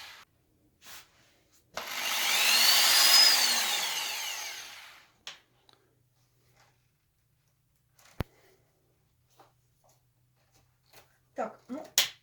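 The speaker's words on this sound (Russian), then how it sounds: "Средняя нормальная дрель." A medium-sized electric drill bores into wooden beams in one loud burst of about three seconds, followed by quiet with scattered knocks and brief bits of speech.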